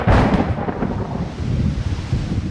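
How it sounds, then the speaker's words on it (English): Thunder from a desert monsoon storm in Arizona rolls as a loud, sustained rumble that swells at the start and keeps churning, with rain-like hiss beneath and no voices. "Monsoon storms can wreak havoc and leave as fast as they come."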